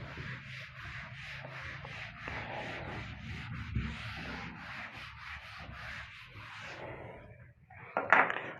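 A duster or cloth rubs writing off a board in quick, repeated back-and-forth strokes, close and fairly faint, ending with a brief knock.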